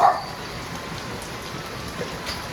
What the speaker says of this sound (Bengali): সকাল থেকে কি সুন্দর বৃষ্টি হচ্ছে